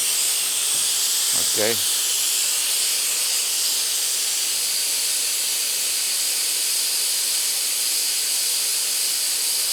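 Steam escapes from an Afghan pressure cooker pot cooking goulash soup in a loud, continuous, close hiss that stays unbroken throughout, and a voice speaks once briefly near the start.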